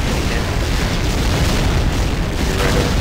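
A loud, sustained, rumbling explosion as a barracks is destroyed in the video game Empires, a broad continuous roar filling the whole stretch with no talking.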